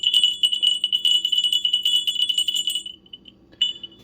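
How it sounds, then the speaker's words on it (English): A small metal crotal bell on a farm jingles rapidly and steadily up close, with bright shaking rings for about three seconds, then falls silent before one short final jingle. "I think this is the actual only crotal bell. They all do ring."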